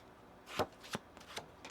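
A deck of tarot cards is shuffled by hand, giving several soft riffling bursts, quiet and close, with brief gaps between them.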